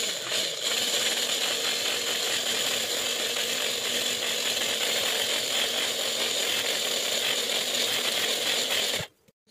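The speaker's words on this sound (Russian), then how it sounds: "Добавляем щепотку соли и потихонечку начинаем взбивать" An electric mixer whisks egg whites from three eggs with a pinch of salt, a steady close whirring and rattling buzz running continuously and loud for about nine seconds before stopping abruptly.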